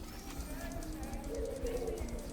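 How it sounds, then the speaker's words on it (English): Pigeon cooing in the video game Marvel's Spider-Man Remastered, a soft low warbling coo over steady background noise, quiet and close, with speech present. "This pigeon's strong."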